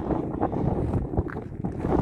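Gusty wind buffets outdoors at a viewpoint over the Loire gorges in a steady, rumbling roar that swells and dips without pause, with no voices.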